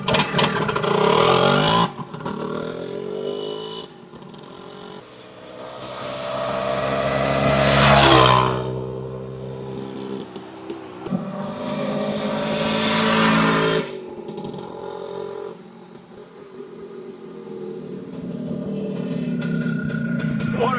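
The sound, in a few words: two-stroke motorcycle engine revving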